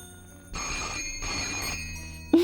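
A telephone in a Hindi-dubbed action film rings in repeated bursts of electronic trilling, with short gaps between rings, over a faint background hum, followed by a sudden sharp sound at the end.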